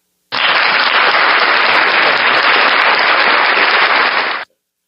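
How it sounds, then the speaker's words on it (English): An applause sound effect plays as a dense, crackling burst of clapping that starts abruptly, holds at full loudness for about four seconds, then cuts off sharply. "this is the applause"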